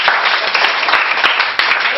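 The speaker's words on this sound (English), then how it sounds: "let us all clap our hands" Students at a school debate clap their hands together in loud, dense applause, a steady roar of many hands with a few sharper claps standing out.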